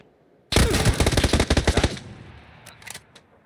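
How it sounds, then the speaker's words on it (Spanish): Beryl assault rifle fired in a video game, a loud close burst of rapid automatic shots lasting about a second and a half, followed by a fading tail and a few scattered distant cracks. "Está disparando con una Beryl"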